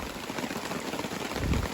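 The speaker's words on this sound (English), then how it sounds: "it started raining harder." Steady rain drumming on a tarp over a camp on the North Country Trail, a dense patter of drops that swells slightly louder near the end, close by with no talk.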